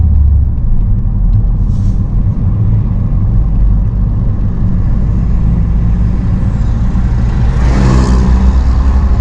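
Road traffic in Tallahassee rumbles past as a constant loud low drone, with one vehicle swelling by more clearly near the end and no one speaking.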